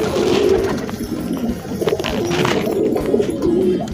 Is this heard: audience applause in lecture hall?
no